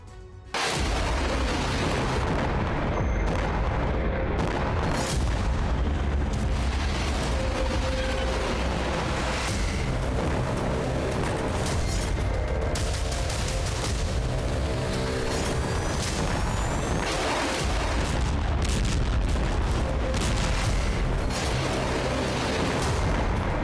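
Loud, continuous barrage of booming explosions and artillery-like blasts, dense and overlapping throughout.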